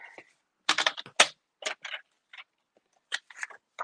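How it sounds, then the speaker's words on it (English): Scissors or a trimmer cutting card stock for a handmade one-color card, a series of short crisp snips and slices in irregular bursts, close and clear with brief pauses between. "I'm going to cut it."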